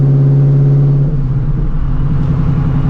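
A 900-horsepower Shelby GT350 pulls hard with a new clutch, its engine droning loud and close, a steady tonal rumble that shifts pitch partway through.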